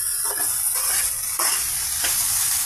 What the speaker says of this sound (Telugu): ఇవన్నీ మీడియం ఫ్లేమ్ మీద ఫ్రై అవనిద్దామండి.